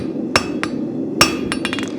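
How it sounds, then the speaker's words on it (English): Hammer blows ring on a spavin horseshoe being forged on an anvil, with two loud metallic strikes and several lighter quick taps against a steady low shop hum. "I simply hammer which we all say never to do. Hammer this inside edge back down."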